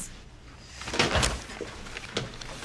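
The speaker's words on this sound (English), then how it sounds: "Close the door." A door swings shut indoors with a soft thud, followed by a faint latch click a moment later, in a quiet room.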